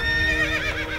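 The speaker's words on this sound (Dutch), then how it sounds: "het paard van Sinterklaas denkt dat ik hem roep" Sinterklaas's horse gives a single close, loud whinny, a shaky high neigh lasting about a second on its own.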